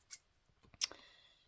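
Scissors snip through paper or thin material in a quiet room, with a sharp cut near the start and a second louder snip a moment later, followed by faint handling rustle.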